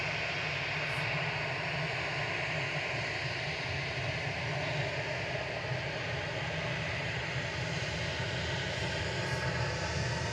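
An airliner departs Manchester Airport bound for Malta, its jet engines a steady, broad roar heard from a distance, unbroken for the whole stretch.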